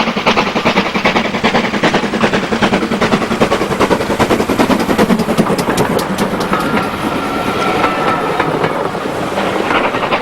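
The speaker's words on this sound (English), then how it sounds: "4500 class Prairie tank 5553 rounds Roebuck Curve on the West Somerset in March 2005." A GWR 4500 class Prairie tank steam locomotive works hard around a curve on the West Somerset Railway, its loud, rapid exhaust beats mixing with heavy rail rumble and clatter, steady and close throughout.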